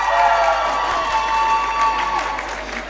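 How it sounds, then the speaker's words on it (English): Crowd of spectators clapping and cheering for a team finishing at a jigsaw puzzle championship, a loud, dense wash of applause with some shouts, heard close and continuous. "We've got a lot of Australians clapping and cheering for them."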